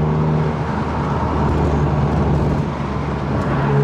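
A VW Golf R with an APR Stage 2 tune pulls hard in third gear, a steady, loud engine and road roar from inside the cabin that holds throughout with no talk over it.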